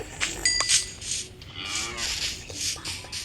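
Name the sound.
cow mooing in the video game Minecraft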